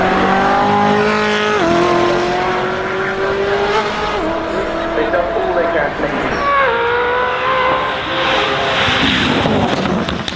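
A Koenigsegg Jesko supercar accelerates hard, its loud engine note climbing steadily in pitch and dropping sharply at several gear shifts before rising again.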